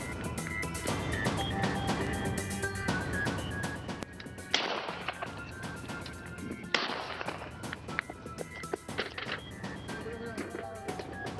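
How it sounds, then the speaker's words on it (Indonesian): Police fire warning shots at a fleeing robbery suspect in Padang, West Sumatra. A few sharp, loud cracks stand out over a busy, steady bed of other sound and faint voices. "Tembakan peringatan serta timah panas dilepaskan petugas terhadap pelaku pembegalan yang mencoba kabur di Kota Padang, Sumatera Barat."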